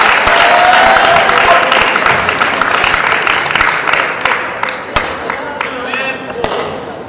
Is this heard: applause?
yes